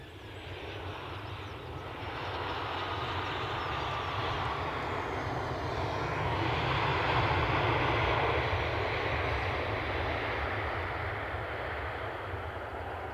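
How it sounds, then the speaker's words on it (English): A Qatar Airways Boeing 787 jet at Edinburgh Airport roars steadily, its broad engine rumble swelling toward the middle and holding loud throughout, heard alone from a short distance. "Qatar Airways 787."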